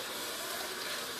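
Tap water running over pasta shells being rinsed in a sink, a steady close rushing hiss throughout.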